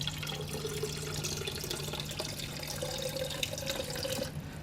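Tap water running into a container in a darkroom to dilute film developer, a steady, close, even stream of flowing water with a faint hum underneath, uninterrupted throughout.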